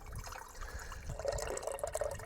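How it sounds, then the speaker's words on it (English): Water filling a coffee maker's reservoir up to the nine-shot line in a camper van, a soft steady trickle with a brighter gurgling pour rising toward the end, alone and close. "So you fill it up to the most amount of water."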